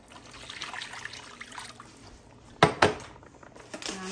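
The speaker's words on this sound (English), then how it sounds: "I'm going to go ahead and add 5 cups of water" Water is poured into a cooking pot for rice, trickling softly at first, followed by a couple of louder splashing pours and a brief clink near the end.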